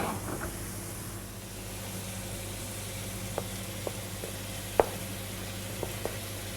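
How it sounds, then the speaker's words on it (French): Spiny lobsters hiss in a hot pan, a steady low sizzle broken by a few sharp clicks and pops, with no talking over it. "On va mettre les langoustes maintenant."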